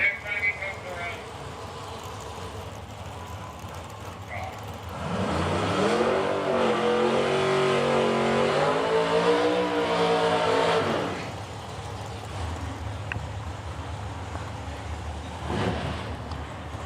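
A dragster and a Camaro at a drag race in Edmonton: engine noise builds into a loud, rising roar for several seconds, then fades, with a public-address voice talking through it.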